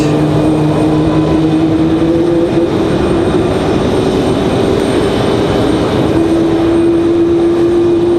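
Steady loud roar of Boeing 737 Max jet engines spooling up at close range at an airport, a sustained broadband rumble with a rising tonal whine holding throughout.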